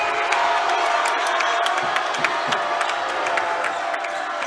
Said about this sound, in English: Crowd comes to their feet here with 23 seconds to go.